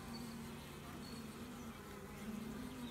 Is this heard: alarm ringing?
no